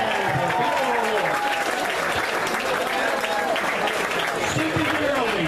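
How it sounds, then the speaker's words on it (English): An audience at a Collin County Democratic Party Meet Beto event applauds a politician with dense, continuous clapping mixed with cheering voices throughout. "How about a big round of applause for a man that has earned the title of honorable?"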